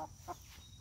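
A chicken gives a couple of brief clucks, faint and fairly close, over a low background hum with no talking.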